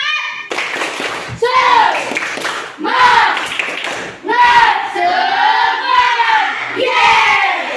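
A classroom of students does a rhythmic group clap before a maths lesson, loud sharp claps falling in a regular pattern while the children chant together in unison close by.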